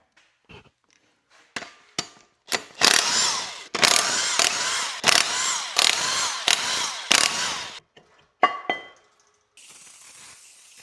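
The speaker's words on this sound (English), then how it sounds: "I got a chrome socket on my impact" Impact wrench fitted with a chrome socket, working on a car being flipped: a few short taps, then a run of loud rattling bursts of several seconds each, with brief gaps, followed by a couple of short hits.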